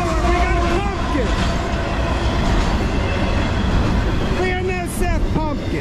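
A BNSF GE ES44 freight locomotive in orange pumpkin paint rolls past close and loud, with a steady low engine rumble, clattering wheels and brief squealing, while a person talks over it.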